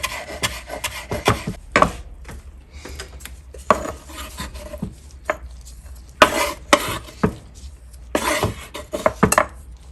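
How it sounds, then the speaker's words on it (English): A knife chops a bunch of cilantro on a cutting board in irregular bursts of crisp, close taps and scraping rubs, with pauses between flurries and no talking. "chop that cilantro on up"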